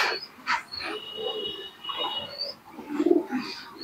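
Domestic pigeons, Teddy and Giribaz breeds kept in a home loft, coo softly at night while still feeding, with low repeated coos and a few sharper calls close by.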